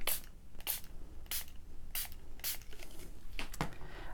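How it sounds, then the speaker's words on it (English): A spray bottle mists water over a painting to keep the paint wet, making several quick, faint hissing spritzes spaced apart against quiet room noise. "Let's spray that to keep it wet."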